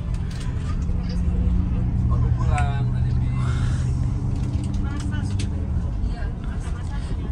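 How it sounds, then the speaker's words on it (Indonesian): Double-decker bus on a road between Malang and Jakarta, overtaking another bus: a steady low engine drone and road rumble inside the cabin, with people talking over it throughout. "Ini bisnya ini lagi ini meng-overtake bis ATB Malang Surabaya."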